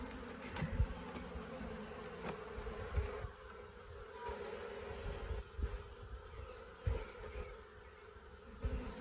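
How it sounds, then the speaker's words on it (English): A dense, steady hum of many honeybees in a hive box fills the air, close and continuous, with occasional soft knocks and rustles of handling. "There are so many bees in this box."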